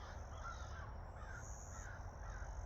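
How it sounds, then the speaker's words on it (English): Crows caw faintly in the distance at a wooded hammock campsite over a steady low background rumble, a few drawn-out calls spaced apart. "Hear the crows in the background."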